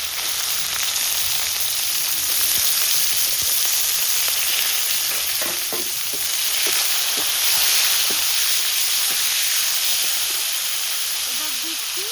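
Grated coconut frying in a pan with bay leaves, dried red chilies, curry leaves, salt and turmeric, a continuous loud sizzle and hiss with occasional stirring scrapes.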